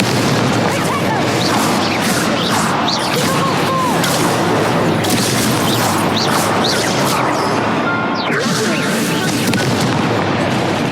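Explosive blasting spells in Hogwarts Legacy: a dense, loud barrage of booms and crashing impacts with whooshing bursts, continuous and chaotic, under frequent excited shouting.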